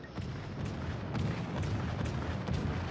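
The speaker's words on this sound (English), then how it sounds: "So I'm taking a shot at that ship in the distance" Warship guns fire in the naval combat game World of Warships Legends, a run of heavy booming shots and rumbling blasts over continuous battle noise, loud and close.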